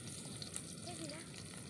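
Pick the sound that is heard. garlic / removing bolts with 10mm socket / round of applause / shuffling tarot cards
garlic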